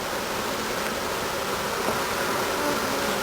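Honey bees swarm at a beehive in a queen-rearing starter colony, a dense, steady buzzing drone filling the air continuously and close by, with no talk.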